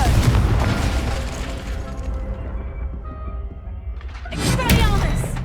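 A Confringo fire spell in Hogwarts Legacy bursts with a loud booming explosion that rumbles and fades, followed by a second sharp blast near the end.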